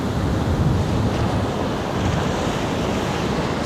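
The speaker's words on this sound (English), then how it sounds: "Super windy." Strong wind gusts batter the microphone at My Khe Beach in Da Nang before a storm, mixed with the roar of waves on the shore, loud and continuous without speech.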